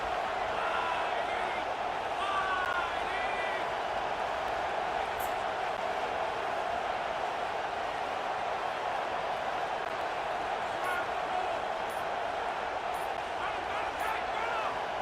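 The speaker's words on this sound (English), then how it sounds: "with this place rocking, the crowd forces a false start" Stadium crowd noise from the College Football 27 video game fills the whole span as a steady, loud roar, with commentary running over it.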